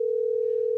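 A telephone dial tone heard while a call is being placed: one loud, steady, unbroken tone that holds at a constant pitch and stays clean, alone and close.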